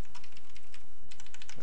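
Quick, even keystrokes on a computer keyboard, a short close burst of typing with a brief pause partway through.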